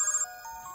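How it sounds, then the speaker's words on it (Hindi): A phone ringtone chirps briefly and quietly, a short electronic melody with no voices over it. "फोन बज रहा है, उसी का होगा।"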